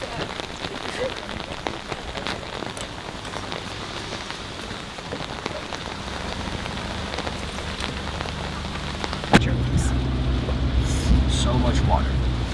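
Steady rain falls on surfaces somewhere in Japan, a dense hiss of drops that swells noticeably heavier partway through, with a low rumble beneath it and no clear voices.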